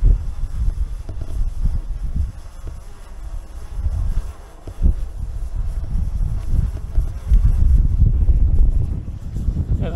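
Strong gusts buffet a microphone outdoors in a town, a deep, rumbling roar that swells and dips continuously and stays loud throughout, with no clear speech.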